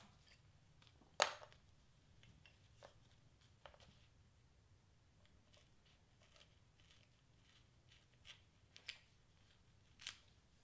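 Quiet, intermittent cutting and scraping as a blade works through a party prop board, with one sharper snap early on and a few scattered small clicks and rustles.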